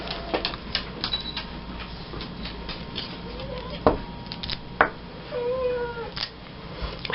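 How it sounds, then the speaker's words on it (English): A cat meows a few times in the background amid light rustling and tapping noises of paper crafting, with a drawn-out, wavering cry near the end. "I hear my cat meowing."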